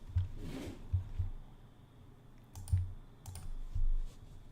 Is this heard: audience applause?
no